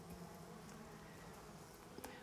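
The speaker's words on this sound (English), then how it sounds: "Look, a little bee team." Bees buzzing around a hive built into a hollowed tree trunk, a soft steady droning hum with a faint brief tick near the end.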